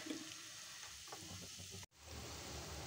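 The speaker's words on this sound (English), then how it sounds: "nicely heated, we will add the cumin seeds. Along with the cumin seeds, we'll add our spices." Cumin seeds and spices sizzle and fry in hot oil, a steady, close, faint crackling hiss with a brief dropout partway through.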